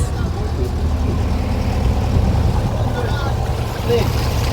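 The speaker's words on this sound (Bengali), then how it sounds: "এই আমাদের লঞ্চ" A river launch motors through the Sundarbans mangrove forest, its engine drone and wind rumble filling the space loudly and steadily throughout, with voices talking on board.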